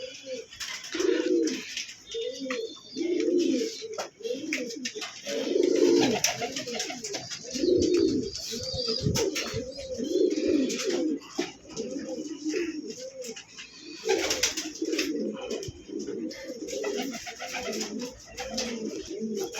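Domestic pigeons kept for sale coo continuously in a loft, with overlapping throaty, rolling calls repeating in steady rhythm at close range, along with a few soft chirps.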